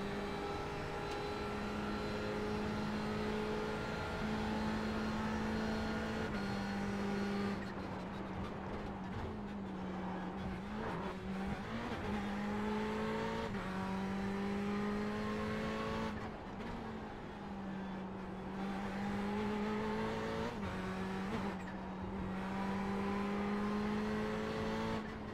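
A Ferrari 488 GTE race car on the Charlotte Roval gives a loud engine howl heard from inside, climbing through the gears and falling again under braking, over and over, with constant wind and road roar and no talk.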